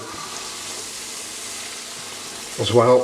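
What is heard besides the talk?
stirring Achari spice mix into sizzling pan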